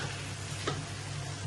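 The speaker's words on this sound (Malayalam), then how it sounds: "നമ്മൾ ഈ അരി ഇളക്കി കൊടുക്കുമ്പോൾ" Jeerakasala rice is stirred in hot ghee for biryani, making a soft continuous sizzle with a faint scrape of the spoon, close and low in level.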